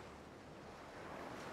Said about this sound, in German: Ja, hier ist Wasser unten drunter, okay.